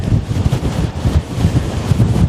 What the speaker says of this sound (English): All of a sudden, big crosswind.